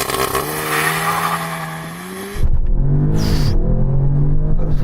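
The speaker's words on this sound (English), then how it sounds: "You have a car that can go from 0 to 60 this quick." A 2-litre turbocharged petrol quattro car accelerates hard from a standstill to 60, its engine note loud and close, rising through the revs with a gear change partway, then pulling strongly again.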